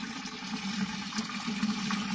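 Water rushes steadily through a float valve as it fills a livestock waterer, a continuous close-up gurgling flow with no talk.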